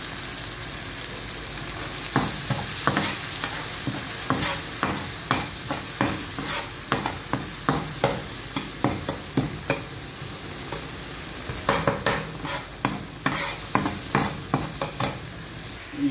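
Spices frying in a pan for chicken macaroni with noodles, with a spoon stirring and scraping in quick repeated strokes over a constant close sizzle, loud and rhythmic throughout with no talk.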